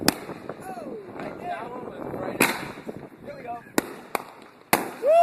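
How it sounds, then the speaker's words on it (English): Fireworks bursting nearby in a rapid irregular series of sharp cracks and bangs, some with whistling, crackling tails, loud and close over a background of distant crowd noise. "Fireworks don't get no better than this."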